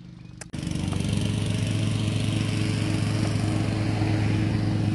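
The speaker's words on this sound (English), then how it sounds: "This bitch with his lawnmower." Lawn mower engine running nearby, a loud steady droning rumble with a buzzing rhythmic pulse that starts abruptly after a short moment and holds at an even level.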